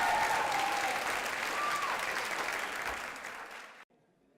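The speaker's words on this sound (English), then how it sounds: "Please give them a round of applause." Audience at an awards dinner for the Ronald E. McNair Postbaccalaureate Achievement Program applauds steadily in a banquet room, a dense, even wash of clapping that holds for several seconds, then cuts off abruptly into near-quiet.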